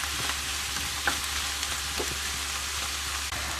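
Vegetables and fish sweating in a hot pan for a fish stock give a steady, even sizzle throughout, with a few faint stir clicks and scrapes near the pan.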